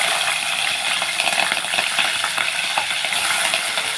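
Cumin seeds and green chillies crackling in hot oil, a loud, continuous close-up sizzle with fine popping spatters throughout and no talking.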